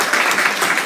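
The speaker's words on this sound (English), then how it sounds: "Give Ozzy a round of applause." Brief burst of audience applause for the host at a comedy show, a dense wash of clapping that fills the whole short moment without any voice over it.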